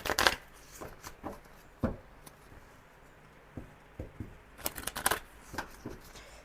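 A deck of angel oracle cards being handled and shuffled, with soft riffling bursts and scattered light taps and flicks, close but quiet, alone without talk.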